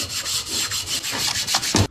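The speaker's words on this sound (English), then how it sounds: "we're cleaning it and sanding it at the same time." Rhythmic back-and-forth scrubbing of an abrasive pad with soapy water over a classic car's interior trim, close and steady, with a few sharper strokes near the end.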